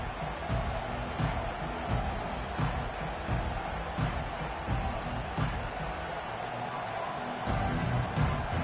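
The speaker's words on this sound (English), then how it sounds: "Listen to the crowd energy here in the early going." Steady stadium crowd roar from a Madden football video game, a continuous dense wash of distant fans with small swells and occasional thumps, no speech over it.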